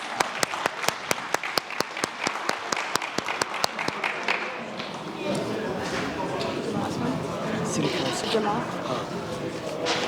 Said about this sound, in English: If you can give them an applause